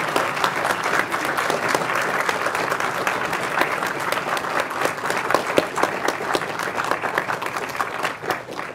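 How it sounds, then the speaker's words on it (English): An audience at a public talk about climate change in the Adirondacks gives a steady round of applause, many hands clapping continuously for nearly nine seconds at even loudness before tapering slightly at the end. "let's just give them a round of applause right now"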